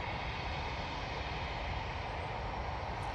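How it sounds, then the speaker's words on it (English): An easyJet Airbus A320-200 departs Manchester Airport as a constant, even engine roar that stays far off and fairly quiet throughout, with no talking. "We do have this Easyjet going off to Copenhagen using their A320-200."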